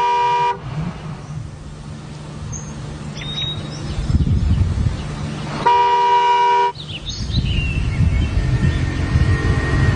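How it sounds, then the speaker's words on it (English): A car horn blares in long, loud blasts, two sustained honks separated by stretches of idling engine and street noise, with a few faint bird calls in the background. "stay in the car and honk my horn until somebody came to fetch me"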